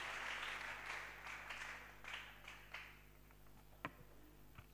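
A church congregation applauds in acclaim of the Lord Jesus, a dense wash of clapping that swells at first then thins into scattered claps and a few sharp single hits near the end.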